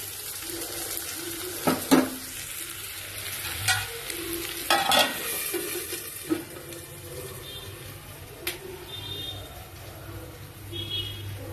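Radish fries in a wok with a steady close sizzle, broken by several clattering bursts of a spatula stirring and scraping the pan and a few higher metallic tones later on; no clear speech.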